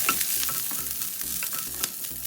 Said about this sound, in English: As your mustard seeds are popping, add the green chili and the curry leaves. Stir that just a little bit.